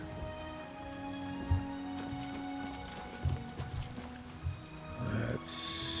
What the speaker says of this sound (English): And the rain started again.